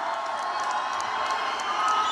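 Large outdoor political rally crowd in Reno, Nevada, cheering and shouting in a steady, dense roar that holds loud and unbroken throughout.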